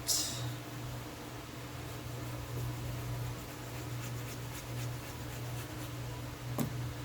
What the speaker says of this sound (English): If you hear noise in the background, we have 3 fans going because it's really hot here.